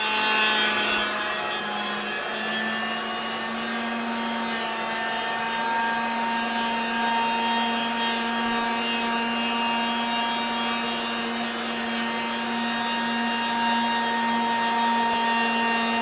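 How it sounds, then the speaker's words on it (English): A router cuts through walnut with a continuous high whine and a steady grinding hum, close and loud, holding an even pitch with a slight dip near the start as the bit loads up. "I'm just trying not to prevent the router head from stalling at that corner."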